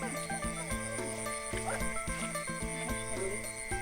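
Frogs croak at night during rainy-season frog hunting, a rapid, rhythmic series of close, evenly spaced croaks repeating steadily throughout with no talking.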